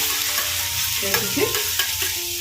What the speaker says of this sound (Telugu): దీన్ని ఇప్పుడు బాగా ఫ్రై చేస్తాను